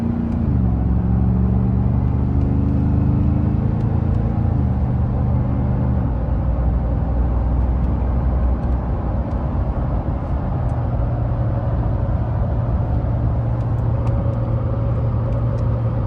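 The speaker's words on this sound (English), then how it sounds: "drives great. A little bit of tire noise." Supercharged Roush F-150 pickup on a road test, heard from inside the cab as a steady loud engine drone with shifting pitch and constant tire and road noise, with no talking.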